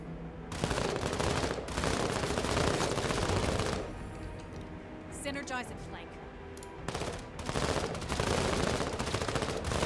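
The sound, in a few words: machine gun fire in the video game Menace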